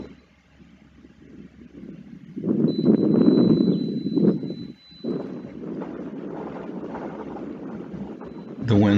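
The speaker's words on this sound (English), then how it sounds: "The wind's picking up." Wind gusts across an outdoor microphone in rumbling, uneven surges that swell and ease, loud and close, with a brief voice near the end.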